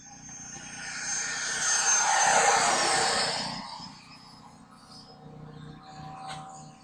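Airplane passing low over a runway, its engine roar swelling to a loud peak then fading into the distance over several seconds, with no talking.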